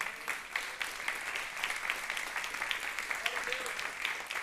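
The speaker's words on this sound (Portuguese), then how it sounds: "Você pode aplaudir ao Senhor?" A church congregation at a Sunday celebration service claps steadily for several seconds. The applause is moderately distant and even, with faint voices mixed in.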